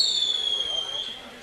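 A firework at a July 4th picnic in 1989 gives a steady high whistle that slowly falls in pitch. It fades gradually, with no sharp bang following.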